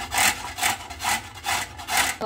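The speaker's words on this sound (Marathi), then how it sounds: "गाजर हलवा बनवण्यासाठी पहिल्यांदा हे धुतलेले गाजर आपण किसून घेऊयात" Washed red carrots being grated for carrot halwa, a steady rhythmic rasping of about five strokes, close and fairly loud with no talk.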